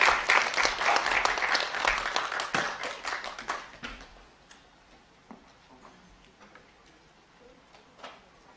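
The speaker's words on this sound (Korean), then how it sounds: "박수로 모시도록 하겠습니다." A lecture audience applauds to welcome an education professor to the stage, with dense, loud clapping for the first four seconds that thins to scattered claps and fades into quiet room noise.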